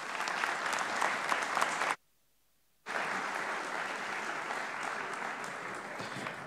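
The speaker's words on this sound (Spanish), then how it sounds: "fuerte el aplauso para todo este panel que nos acompañó en distintos temas" A crowd gives a strong round of applause for a discussion panel at an IPA 2024 session on the plum market, loud sustained clapping broken by a brief silent gap before it resumes.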